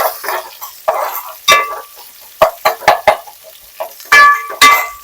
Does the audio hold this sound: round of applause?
no